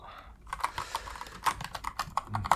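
A new computer keyboard is typed on late at night, with fast, close, crisp key clicks and clacks in an irregular rhythm, sharp taps standing out, and no voice.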